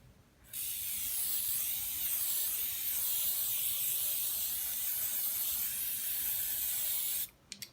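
Spray glue hisses from an aerosol can in one long continuous burst of about seven seconds, close and bright, followed by a couple of small clicks as the nozzle is released.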